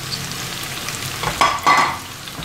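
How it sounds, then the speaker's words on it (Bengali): Onion, ginger and garlic fry in oil for beef bhuna, a close steady sizzle broken by a couple of stirring scrapes partway through. "এই পেঁয়াজটাকে খুব ভালো মতো, আদা এবং রসুনটাকেও ভেজে নিতে হবে"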